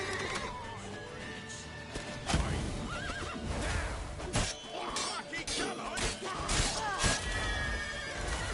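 A horse in the Witcher 3 video game neighs and whinnies loudly amid clattering hooves and crashing impacts, with several shrill calls rising over a busy, noisy action scene.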